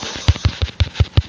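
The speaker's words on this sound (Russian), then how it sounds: "Взрывы бабахи." Explosions on a video game map, a rapid string of about seven sharp booming blasts spaced evenly, loud and close with no speech.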